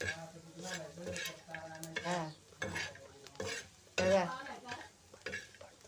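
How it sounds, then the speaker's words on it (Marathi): Spices with turmeric being stirred and fried in a pan for a drumstick curry made from farm-picked drumsticks, with a spoon scraping and clinking in bursts over a low sizzle, close up. "या असं परतून घ्यायचं चांगलं हळद टाकायची म्हणजे कलर येतो परतून घ्यायचं चांगलं"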